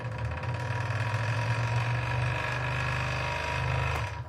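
A scroll saw fitted with a pin-end blade runs steadily, a close, buzzing motor hum with rapid rhythmic blade chatter that holds for about four seconds and then stops abruptly.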